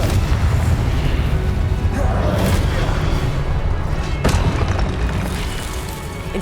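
Confringo spell blasts in Hogwarts Legacy: heavy booming explosions over a loud, dense game mix, with a speaking voice partly heard over them.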